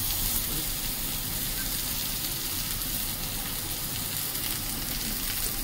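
Steady, dense sizzling of cumin seeds frying in hot oil, a constant close hiss that barely changes throughout, with no voices.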